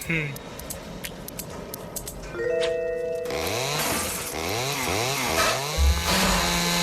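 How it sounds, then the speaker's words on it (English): Chainsaw from the animated film Foodfight revving up loudly over a film soundtrack with music and other sounds, rising in repeated swooping engine surges. "When in doubt, use a chainsaw."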